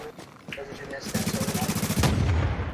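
Rapid automatic gunfire in the video game The Division, a steady close burst of shots that grows heavier toward the end, with a player talking over it.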